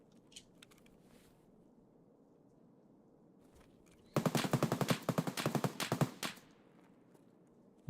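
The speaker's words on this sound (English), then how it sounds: "Who's he shooting at?" A burst of automatic gunfire in Escape from Tarkov, fairly close and loud, rattles for about two seconds after a quiet stretch with faint scattered noises.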